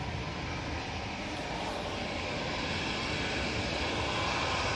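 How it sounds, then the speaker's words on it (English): A Virgin Atlantic Airbus A350-1000 lands at Manchester Airport during Storm Floris, its engines a steady, broad, wind-buffeted roar that swells slightly toward the end. "So let's see how this Virgin Atlantic A350 1000 does."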